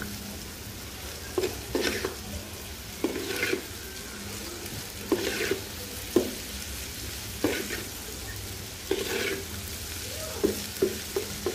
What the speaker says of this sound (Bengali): এখন শুধু একটু পরপর করলা ভাজিটা নেড়ে চেড়ে দিব, একটু পরপর ভাজা ভাজা হওয়া পর্যন্ত।